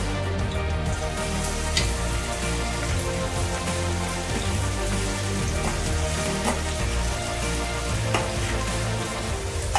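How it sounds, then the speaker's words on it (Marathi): Finely chopped onion hits hot oil in a pan and sizzles steadily, a dense, loud crackle holding for the whole stretch, prepared for a Maharashtrian bhindi (okra) bhaji. "आता आपण बारीक चिरलेला कांदा ह्यात ओतूया।"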